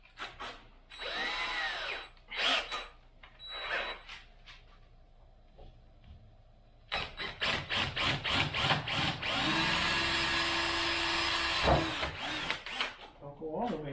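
A power drill bores a 1/4 inch pilot hole in short whirring bursts that rise in pitch, then runs a longer steady spell, with people talking nearby between the runs.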